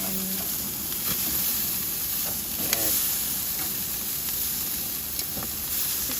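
Pork loin sizzles on a barbecue grill with a steady, moderate hiss. A few soft clinks and scrapes of tools sound over it, and there is no talking.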